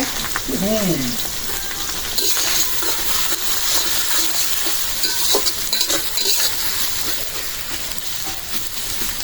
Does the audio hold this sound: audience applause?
no